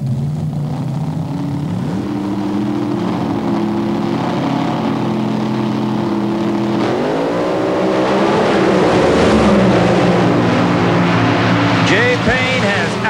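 Drag racing cars at full power at the 1993 NHRA Fram Sports Nationals in Atlanta, a loud, sustained engine roar that climbs in pitch, heard from a distance with crowd ambience and an announcer talking over it.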